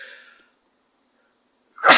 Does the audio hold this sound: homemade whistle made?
no